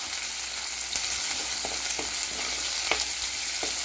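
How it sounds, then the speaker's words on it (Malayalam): Onions and green chilies sautéing in oil with curry leaves, a steady bright frying hiss up close, punctuated by occasional light spatters and stirring clicks. "കറിവേപ്പില നല്ലതിനായിട്ട് പൊട്ടിയതിന് ശേഷം ഉള്ളിയും പച്ചമുളകും കൂടി ഒരുമിച്ചിട്ടിട്ടുണ്ട്. നന്നായിട്ടത് ഒന്ന് വഴറ്റുക."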